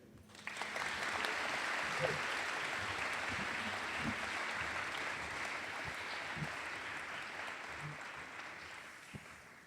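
An audience gives steady, sustained applause to welcome a speaker, a full crowd clapping at moderate distance that starts sharply and keeps going with little change.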